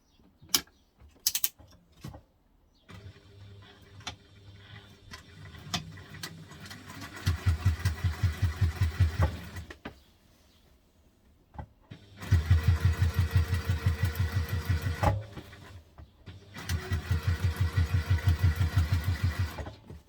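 A sewing machine stitches a fabric teddy backpack in three steady, rapid mechanical runs of a few seconds each. Quieter handling noises fill the pauses between runs.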